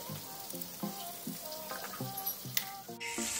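Tilapia pieces frying in a pan, Kerala style, giving a close, steady sizzle with bright crackles. Repeated tonal clinks and scrapes from the pan sit over the sizzle.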